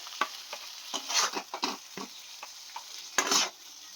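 Poppy seed paste cooks in a wok, giving a steady close sizzle broken by irregular scraping strokes of a spoon against the metal, with no voices.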